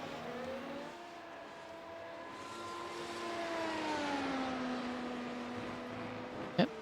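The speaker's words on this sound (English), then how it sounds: "Christina Ryan will be the first car on track here at Magny-Cours." A single-seater race car heading out onto the track at the Magny-Cours circuit for the French Grand Prix, its engine note rising and falling as it gathers speed at a distance, ending in a short sharp knock.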